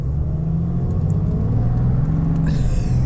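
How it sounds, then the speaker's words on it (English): A 2025 RAM 2500 HD heavy-duty pickup pulls a caravan from standstill toward 100 km/h, its engine a steady loud low rumble building under load throughout, with no talk. "we'll do a 0 to 100 with the caravan on the back"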